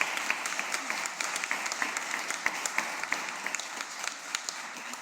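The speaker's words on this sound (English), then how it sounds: "And I think they deserve a round of applause." Applause rises from a seated audience at a medical college membership ceremony, a steady wash of many hands clapping with sharp individual claps standing out, moderately distant and sustained throughout.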